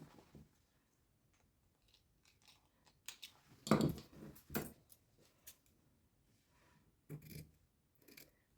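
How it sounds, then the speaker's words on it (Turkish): Scissors snip fabric in a few separate, quiet cuts with crisp clicks and pauses between them, in an otherwise hushed room. "Ve şimdi makasımla bunu keseceğim."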